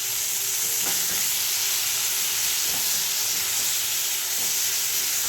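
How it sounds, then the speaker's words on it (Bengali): Grated ginger hits a pan of fried eggplant for a mung dal, producing a constant loud sizzle and hiss of frying with a few faint stirring scrapes underneath, close by and without talk. "এখন এর মধ্যে দেবো আমি আদা কুচি একটু আদা গ্রেড করে নিয়েছিলাম"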